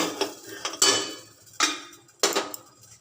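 Metal lid clatters onto a pan after batter goes in for chitai pitha, several sharp clanks and scrapes in quick succession, close and fairly loud.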